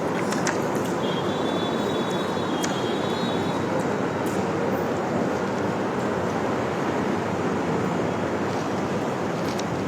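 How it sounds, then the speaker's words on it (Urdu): An electric ceiling fan in a mosque whirs steadily as a broad, even whoosh of moving air, continuous and fairly loud throughout, with no talk over it. "اس کو بند کرو یہ کہ پنکھے کو"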